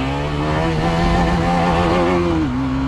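A Kawasaki ZX-10R superbike engine holds a loud, continuous droning roar close by, its pitch wavering slightly before dipping near the end, with no talk over it.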